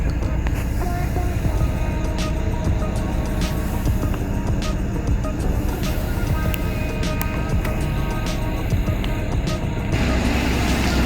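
A 2013 Mercedes-Benz CLS 350 AMG Sport Package engine runs at a steady idle, a continuous low rumble with faint clicks and ticks over it, loud and close throughout.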